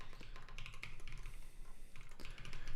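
Typing on a computer keyboard during live Rust programming, with quick irregular clicks and clatters of keys, close and fairly quiet, with no talk.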